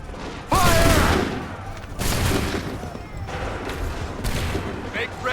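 Musket volleys in Assassin's Creed III, several loud crashing bursts of massed gunfire spaced a second or two apart, with shouted commands between them.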